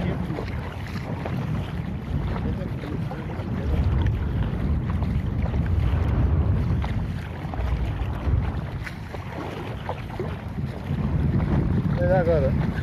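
Wind gusts steadily across the Lagoa de Albufeira lagoon, buffeting the microphone with a loud, continuous rumbling roar that rises and falls.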